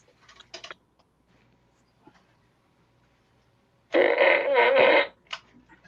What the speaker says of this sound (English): I don't need a fart machine. I've got a fart machine.